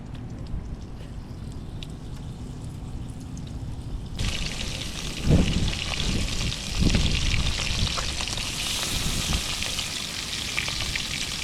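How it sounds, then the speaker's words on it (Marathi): Fish dropped into hot oil bursts into a loud, close sizzle that starts abruptly and keeps crackling steadily, with a few splashy surges early on, while cooking outdoors on a sea island near Mumbai. "चला मित्रांनो आपला मासा आता तेलामध्ये सोडूया"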